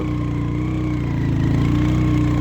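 A motorcycle engine runs steadily and loud, close by, with a buzzing, mower-like drone and no talk, at a flooded crossing of the Sutlej river.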